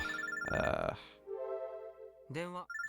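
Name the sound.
Pokecom phone ringtone in Robotics;Notes Elite video game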